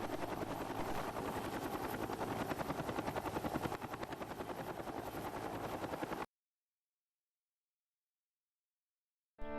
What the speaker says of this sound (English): It will show you what downdraft from a helicopter looks like and how it moves.